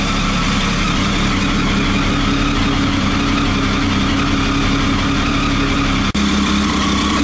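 A Triumph Tiger motorcycle idles steadily and close by with a rough, flickering-light fault and bad idle, a continuous loud engine drone with one brief dropout near the end.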